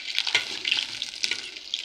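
A splash of water lands on chopped onions frying in mustard oil, setting off a bright, wet sizzle and crackle with a few sharper pops over about two seconds.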